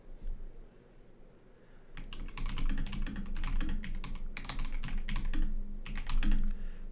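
Fingers typing on a computer keyboard, starting after a quiet pause: close, crisp bursts of rapid key clicks with brief gaps between them.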